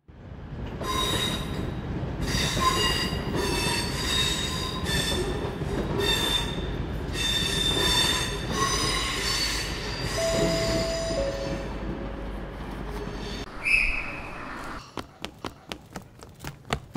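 A train pulling into Crewe station, a loud rumbling approach with sustained high metallic wheel squeals, then a sharp squeal and a rhythmic series of clicks as it slows near the end.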